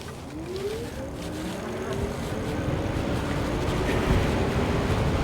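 A DYU C9 electric bike accelerating on its thumb throttle outdoors, a quiet motor whine rising steadily in pitch beneath heavy wind and road rush that grows gradually louder.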